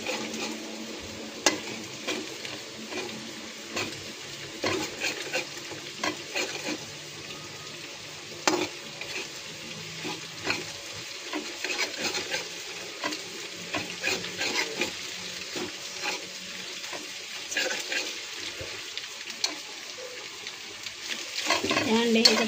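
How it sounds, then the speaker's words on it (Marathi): Beaten eggs sizzle and fry omelette-style in a pan for fried rice, with steady crackling broken by frequent spatula scrapes and stirring clatter against the pan. "असे फोडून इथंच ऑमलेट टाईप करायचं"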